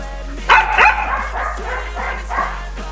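A pet dog barks and yips repeatedly in quick, loud bursts close by during obedience training, with a few whimpering notes between barks.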